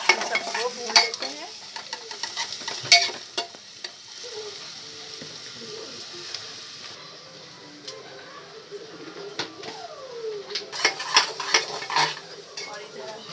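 Cumin and spice masala roast in a pan with a faint sizzle, under irregular clinks and scrapes of a metal spoon stirring against the cookware, louder bursts at the start and end.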